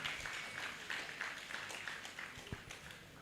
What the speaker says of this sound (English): Please, a bigger round of applause for Kalba and Umi.